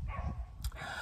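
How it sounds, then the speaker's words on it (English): A dog barks outside in a few quick, muffled yaps, faint and distant under a low background hum. "Goodness, there's a dog barking."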